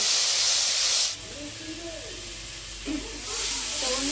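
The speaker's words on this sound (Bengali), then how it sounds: "মশলাটা তেলে হালকা ভেজে নেব" Spices sizzle in hot oil in a pan over a clay pipe stove, with bay leaf, onion, garlic and green chili paste in the mix. A loud frying hiss fades while a voice speaks, then swells again near the end.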